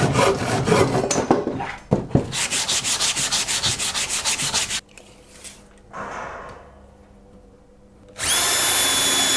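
A power drill drives beefy Torx-head landscaping screws into scrap timber against a joist, running in loud sustained bursts with pauses between, a grinding whir cutting out midway and restarting strongly near the end.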